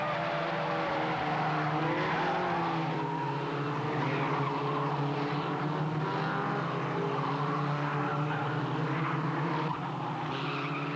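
Race cars scream around a circuit during a motor race, a dense, continuous high-revving roar of several engines with shifting pitches and faint tyre squeal, heard from a distance.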